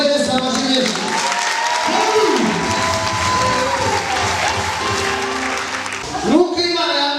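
Audience applause at a church gathering, a steady dense patter of clapping lasting throughout, with a voice talking over it and rising briefly near the end.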